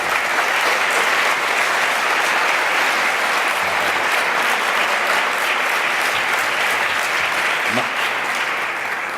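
An audience at a human rights award ceremony applauds, a loud, dense and steady clapping that fills the hall and keeps going without a break before fading slightly at the end.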